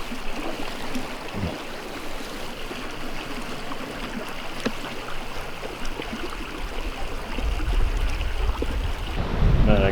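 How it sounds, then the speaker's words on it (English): Strong wind buffets the microphone outdoors on a Kansas turkey hunt, a constant rushing roar that swells and grows louder toward the end, with no voices heard. "ridiculous wind in my favor"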